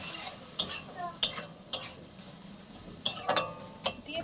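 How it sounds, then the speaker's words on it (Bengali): A spoon scraping and clinking against a pan while salt and turmeric powder are mixed into cooking tomato chutney, several sharp intermittent strokes over a quiet sizzle. "দিয়ে দেবো নুন, দিয়ে দেবো অল্প করে হলুদ গুঁড়ো, দিয়ে ভালোভাবে মিক্স করে নেবো এটাকে"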